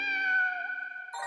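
A cat in a cat cafe lets out one long, clear, drawn-out meow close to the listener, ending abruptly as another brief sound cuts in.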